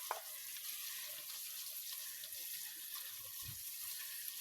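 Ground meat hits a pan of sautéed onions for spaghetti sauce, giving a soft, steady sizzle and frying hiss with a few faint clinks, no voices over it.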